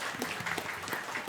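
Brief scattered clapping from a few people at a school board meeting, fairly faint and loose in rhythm.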